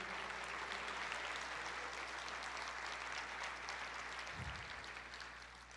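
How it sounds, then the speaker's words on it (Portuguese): A church congregation applauds in a continuous, fairly distant wash of clapping that slowly fades, with a low hum beneath and a brief low thump near the end. "Você pode aplaudir o Senhor"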